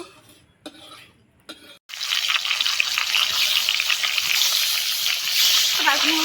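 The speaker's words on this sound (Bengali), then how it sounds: "গরম হয়ে গেছে, দিয়ে দিব আমি মাছ দিয়ে দিব" Pangas fish fillets hitting hot oil in a pan, a sudden loud hiss that swells into sustained vigorous sizzling and spattering, after brief quiet talk and a few faint kitchen clatters.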